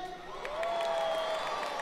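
A live audience claps and cheers in a steady, moderately loud wash of applause and voices, with scattered whoops on top.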